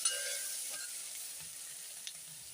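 Curry leaves frying with onions in a pan for brinjal sambar, a faint steady sizzle with a couple of soft stirring taps, quiet and without talk.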